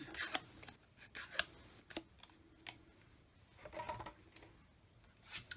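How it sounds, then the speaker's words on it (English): Cardstock is scored with a paper trimmer and folded by hand, making quiet, close, scattered crisp scrapes, clicks and paper rustles at irregular intervals. "Pop it in, score it through, and fold it in half."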